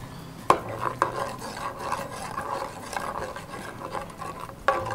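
A sauce marinade being mixed in a bowl, giving soft continuous rubbing and stirring scrapes with a few sharp clinks of utensil against the dish, close and moderately quiet, with no talking.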